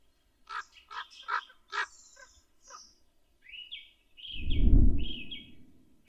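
Ravens in a forest give a string of hoarse, croaking calls at early spring dawn, then higher, drawn-out calls over a deep low rumble that swells near the end.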